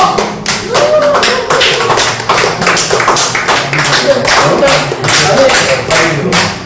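Audience clapping at a Korean church ministers' association meeting, loud dense hand claps sustained throughout with a little talk mixed in.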